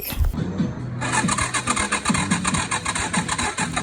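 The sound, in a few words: motorcycle engine failing to start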